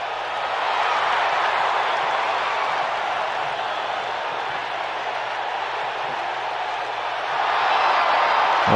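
A cheering arena crowd in the wrestling video game WWE 2K makes a steady, loud roar of many voices that holds throughout and swells slightly near the end.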